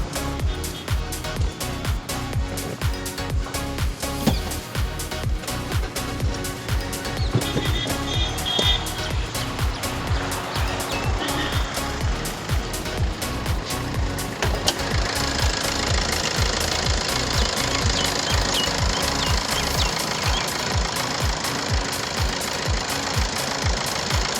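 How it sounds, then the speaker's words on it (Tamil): A 2015 Maruti Suzuki Swift Dzire diesel car engine idles with a rapid, steady knocking clatter, loud and close, running continuously without a break. "வண்டியோட இன்ஜின் நான் ஸ்டார்ட் பண்ணி காட்டுறேன் கேளுங்க எப்படி இருக்குன்ட்டு"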